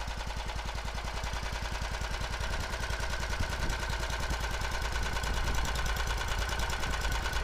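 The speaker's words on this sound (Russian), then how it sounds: "и запускаем двигатель." A walk-behind tractor engine fitted to a homemade snowmobile runs with a rapid, steady mechanical clatter of firing pulses, close and continuous with no talk.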